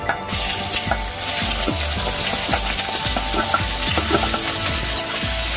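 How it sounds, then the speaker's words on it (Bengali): Onions fry in hot oil with whole spices for chicken biryani, giving a continuous sizzling hiss with repeated soft knocks and scrapes of stirring, close and steady with no talk. "এইবার পেঁয়াজগুলো একটু লাল লাল করে ভেজে নেবো।"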